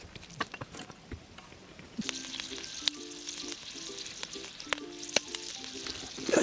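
Oysters sizzling on a grill at a kaki-goya oyster hut on the Noto Peninsula, a steady close frying hiss broken by sharp pops and clinks, and no voices.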